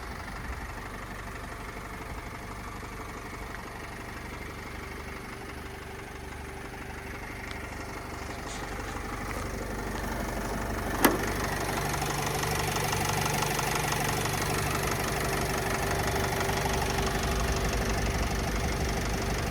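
A 2013 Renault Trafic 2.0 diesel van engine idles with a steady, low rumble evenly throughout, with a single brief click partway and the hum growing slightly louder afterward.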